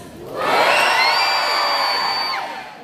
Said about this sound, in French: ça veut dire que vous avez crié assez fort